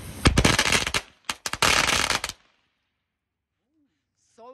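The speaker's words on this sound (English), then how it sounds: "So far, the loudest noisemaker that we've had is cracker bombs" Cracker bomb fireworks go off in a rapid string of loud, sharp bangs close by, followed by a second dense cluster of pops before silence, with a brief voice at the very end.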